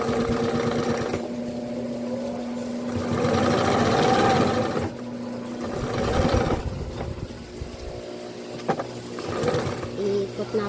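A sewing machine stitching a Filipiniana gown hums steadily with a rapid mechanical drone, close and continuous, its pitch and intensity shifting slightly as it runs.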